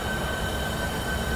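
A train in Train Sim World 3 on the Southeastern route out of St Pancras International, a steady loud rumbling roar with a sustained high whine running throughout, no voices.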